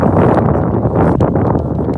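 Gusty wind buffets the microphone with a low, rumbling roar that rises and falls over a couple of seconds.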